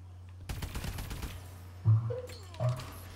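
AE4 fire in a Call of Duty match comes as a rapid, fairly faint burst of shots, followed by a couple of short, heavier thumps.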